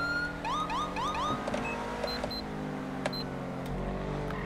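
Police car siren in the GTA V LSPDFR police mod, a rising wail cycling rapidly several times before giving way to steady engine rumble and scattered electronic chirps and beeps, loud and close with no talk.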